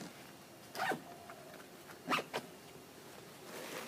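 A zipper drawn shut on a backpack's med kit pocket while packing an overnight pack, two or three quick rasping pulls close by against a quiet background.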